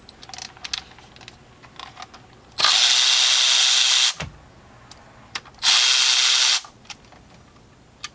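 A power tool with an E8 E-Torx socket whirs on bolts of a 3.6L Pentastar engine in a 2018 Jeep Grand Cherokee, two loud sustained bursts of about a second and a half each, with small clicks and handling noises between them.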